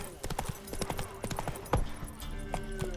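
Roach, a horse in The Witcher 3: Wild Hunt, clip-clops along with steady hoof beats and a faint snort, the hooves fairly close and clear.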